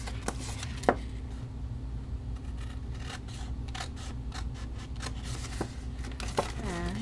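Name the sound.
cutting cardstock for Stampin' Up! box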